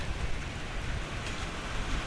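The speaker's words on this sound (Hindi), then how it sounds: "बस शुरू हो गई है भाई बरसात।" Evening rain starting to fall over fields after rice sowing, a soft, even hiss of drops that continues without a break for the whole short stretch, with no voices.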